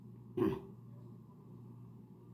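A single short cough bursts out once, close to the microphone, from a person during a live Bible reading, against a low steady room hum with no speech.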